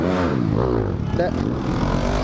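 A Crossfire RM 250 motorcycle engine runs with a steady, loud low drone while someone talks over it throughout.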